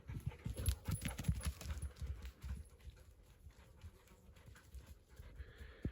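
A dog pants in quick, rhythmic breaths close by, with scattered light scuffs and clicks of movement; the panting fades somewhat toward the end.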